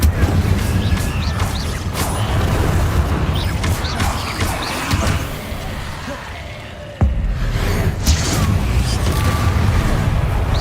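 Fiery spell bursts from the Incendio charm in the Hogwarts Legacy game, a dense roaring crackle of flame and booming impacts that runs almost unbroken, with one sharp hit near the middle, while a voice talks over the din.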